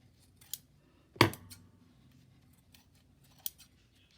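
Scissors snip paper while an altered file folder is trimmed: a sharp, close main cut with small clicks before and after, then one more crisp snip later, and no talk.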